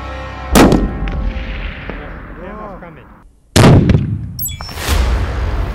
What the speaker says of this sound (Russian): Третьим этапом будет проверка стрельбы под углом.